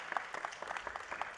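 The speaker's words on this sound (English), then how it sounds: "Give Dr. P a round of applause, please." Scattered clapping from a small crowd at a county board of supervisors meeting, soft and somewhat distant, a brief patter of applause with no talking.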